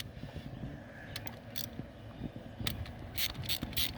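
A hand ratchet works bolts loose from the top plate of a New Holland 7330 step-up gearbox, giving quiet clicking pawl bursts and metallic ticks in a few short irregular runs, close by with no talk.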